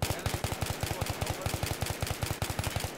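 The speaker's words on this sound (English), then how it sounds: "All I hear is bullets." Rapid automatic gunfire in a competitive online shooter match, a steady stream of loud, evenly spaced shots running for the whole stretch with only a faint trace of voice.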